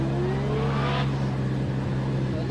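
A drift car at a Pure Drift event in the 2023 season adds angle through a corner, its engine a steady loud drone with a rising rev sweep that drops off partway through, under a constant hum.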